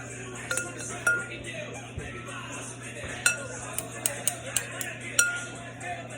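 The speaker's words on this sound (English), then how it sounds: "get 2 spoons and kind of just like toss the cheeses together" Two spoons tossing shredded cheeses together in a bowl for keto fathead pizza dough, giving repeated light metallic clinks and scrapes against the bowl in an irregular rhythm over a steady low hum.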